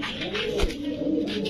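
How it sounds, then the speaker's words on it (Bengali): Pakistani pigeons coo softly and close by, a low, continuous murmuring with no voices over it. "এই যে দেখেন অরিজিনালি পাকিস্তানের কবুতর"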